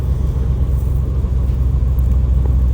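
A 1967 Chevrolet Caprice with a 454 big block V8, not its original motor, idles with a deep, loud, steady rumble close by, a dense low throb pulsing evenly throughout with no voices.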